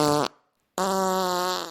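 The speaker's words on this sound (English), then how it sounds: "if you hear me farting," Two buzzy, tonal fart-like blasts, a short one then a longer sustained one after a brief gap, loud and close with no talking.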